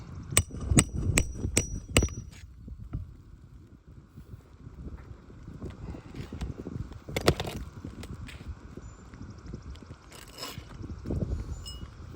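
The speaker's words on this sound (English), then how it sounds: "just by me simply nailing this shingle" A hammer drives nails into a roof shingle during repair work, with about five sharp, loud blows in quick succession at the start, then quieter scattered taps and outdoor wind noise.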